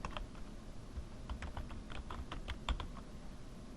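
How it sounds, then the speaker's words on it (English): Typing on a computer keyboard to enter a username at a sign-in screen, a quick run of close, crisp key clicks with irregular rhythm, no voices. "Watch when I type administrator."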